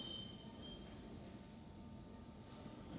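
A London Underground Jubilee Line train squeals faintly on its rails at Southwark station platform with a steady low rumble, high metallic tones drawn out, heard at a distance and quiet.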